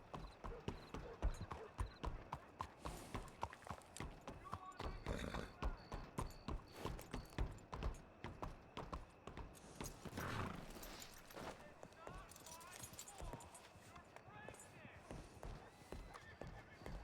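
Horse hooves clip-clop in a Wild West roleplay game, a steady run of rhythmic hoofbeats with an occasional whinny, heard under ongoing talk.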